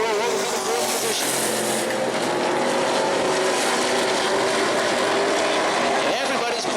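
Race cars circle the track at New Smyrna Speedway, a loud continuous engine drone with a commentator talking over it.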